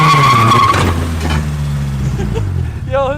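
A Honda CRX with a dual overhead cam VTEC engine skids its tires, a high squeal and revving engine tones sliding downward, up close, with a voice speaking partway through.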